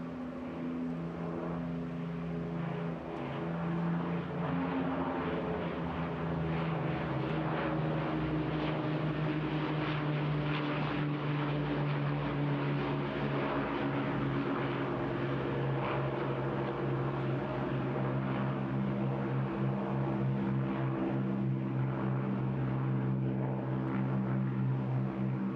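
A 1945 Vickers Armstrong Broughton-built aircraft flies at the Bournemouth Air Festival, a steady loud propeller engine drone with a humming tone that holds throughout, no talking.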